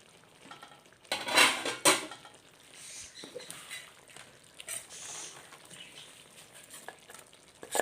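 Chicken masala in a pan is stirred as ground paste goes in: a couple of loud clattering scrapes of utensil on pan early on, then lighter stirring and a faint sizzle close by, with no speech.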